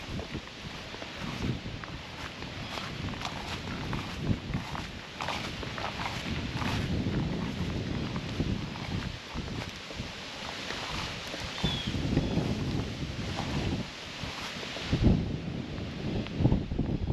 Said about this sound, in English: So the wind's really starting to pick up now. I think you can hear it.